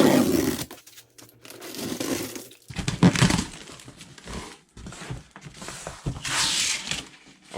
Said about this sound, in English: let's crack this thing open